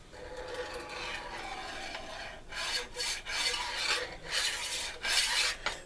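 Sanguine chalk scraped along a ruler in a steady, close rasping stroke, then several short, louder scratching passes in a row; no voices.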